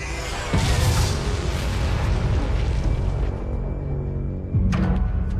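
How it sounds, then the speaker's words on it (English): A car bomb detonates with a loud, deep boom, followed by a long roaring rumble and debris noise that thins out before a second heavy thud near the end. "The impact of the explosion was incredible."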